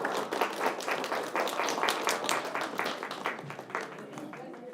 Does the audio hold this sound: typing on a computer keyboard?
no